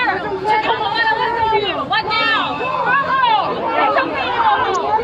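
A protest crowd pushes and jostles in a dense babble of overlapping shouting voices, loud and close, with no single voice standing out for long.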